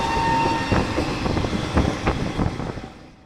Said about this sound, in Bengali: আমাদের ট্রেন কিন্তু এখন হান্ড্রেডেই চলছে